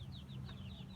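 Ducklings and their mother duck call outdoors near a road, a faint, quick run of high peeping and soft quacks over low background rumble.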